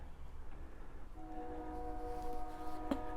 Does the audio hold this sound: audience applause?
no